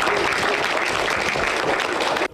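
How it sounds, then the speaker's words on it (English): A roomful of elementary school children claps together, loud and dense, holding a steady wash of applause that cuts off abruptly near the end. "Can we just clap for them"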